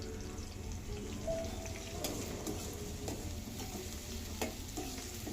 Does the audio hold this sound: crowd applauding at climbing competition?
no